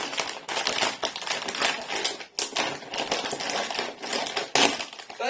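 A packet of Morrisons crisps is pulled open, giving a run of crisp, dense crackles and tearing rustles close up that carry on steadily for several seconds with short breaks, and no one speaks.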